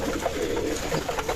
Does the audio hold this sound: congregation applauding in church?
no